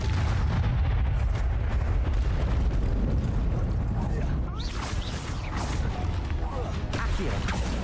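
A Bombarda spell explosion during a Hogwarts Legacy battle, loud, dense rumbling blasts and booming bursts that roll on continuously, with crackling debris over a heavy low roar.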